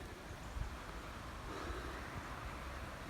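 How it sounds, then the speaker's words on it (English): Wind blowing across a lake on a blustery day, a faint steady rumbling buffet with low gusty thumps against the microphone, continuous and without voices. "As you can see, the wind's coming into this corner lovely"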